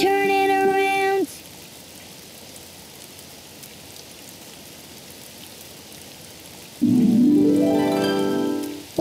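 Cartoon rain falls steadily outside, a soft even hiss lasting most of the stretch, framed by brief musical tones at the start and end.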